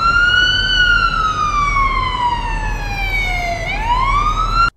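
A wailing ambulance siren in the police game Police Simulator: Patrol Officers sweeps slowly down in pitch, then swoops back up. It is loud and close, with a steady traffic rumble underneath, and cuts off abruptly at the end.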